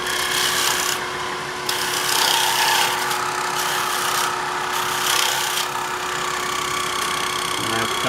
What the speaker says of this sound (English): Use that parting tool again.